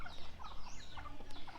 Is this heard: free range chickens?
yes